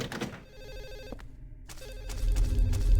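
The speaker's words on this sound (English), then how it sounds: "The phone just sounds like it's everywhere" A telephone in Silent Hill 4 rings in a short burst, then pauses and rings again, a buzzing electronic trill over low droning game ambience that swells toward the end.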